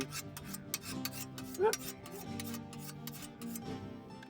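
A scythe blade is sharpened along its bevel at an outdoor community garden party, with quick repeated rasping strokes close by and a brief ringing scrape of metal midway.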